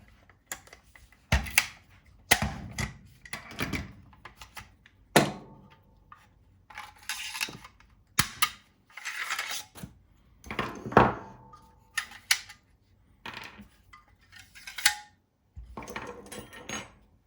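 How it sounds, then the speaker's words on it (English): A SCAR 15P pistol is being field stripped on a bench: irregular metallic clicks, clunks and sharp knocks as the parts are handled and set down, close and distinct with short pauses between. "so next is to field strip your SCAR."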